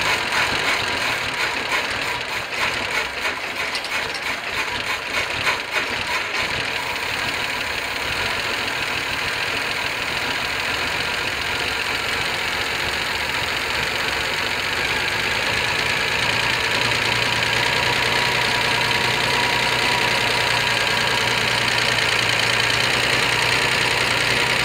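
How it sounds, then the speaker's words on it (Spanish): A Ford Econoline van engine after lifter repair cranks, fires up and settles into a steady loud running idle with a rough, knocking undertone that continues for the rest of the stretch. "Estamos para hacer una prueba de arranque."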